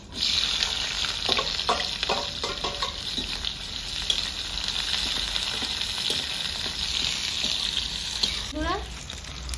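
Whole cloves, small cardamom pods and chopped onion fry in hot oil in a village-style home kitchen, a steady close sizzle running throughout with a few scraping stirs and light clatters.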